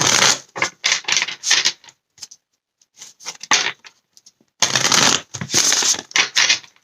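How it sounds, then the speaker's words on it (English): Tarot cards shuffle by hand in close, crisp bursts of riffling, with short pauses between rounds and a longer burst near the end. "Okay, last shuffle."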